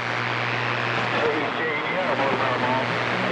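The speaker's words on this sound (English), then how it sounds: "That was a police helicopter flying over the house." A police helicopter flies over a house, a steady low droning rotor and engine rumble that holds level throughout, with a voice talking over it.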